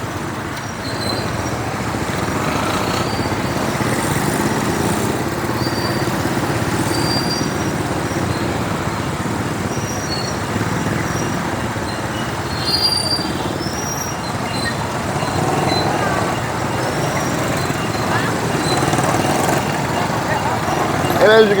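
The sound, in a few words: street traffic of cars, motorbikes, trikes and trucks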